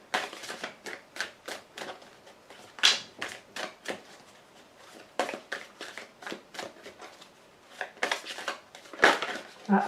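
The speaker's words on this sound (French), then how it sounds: "5 cartes vont être tirées." Tarot cards are shuffled and drawn close by in a quick run of crisp, papery flicks and snaps, irregular bursts with short pauses between them, and no voice over them.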